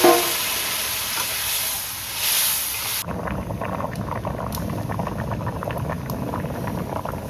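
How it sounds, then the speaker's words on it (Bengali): Water poured onto sautéed potatoes in a hot pan at a family picnic, with a sharp burst of sizzling that settles into a loud, steady bubbling hiss close by. "আলু কষানো হয়ে গেছে, আমি এখন জল দিয়ে দেবো।"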